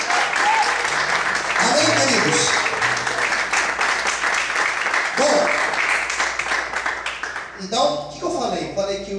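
Congregation applauding at a church service, sustained dense clapping across the stretch with voices calling out over it and a brief lull near the end.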